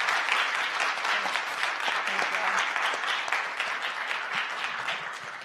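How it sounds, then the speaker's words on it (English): Audience applauding after a physics lecture, a sustained burst of many hands clapping in a hall, fairly loud and even throughout, with faint voices beneath. "And let's have a big hand of applause."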